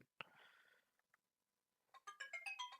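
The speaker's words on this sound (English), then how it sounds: "my phone's going off" A phone goes off with a short electronic ringtone, a brief tone near the start and then a quick run of melodic notes toward the end, fairly quiet with near-silence between.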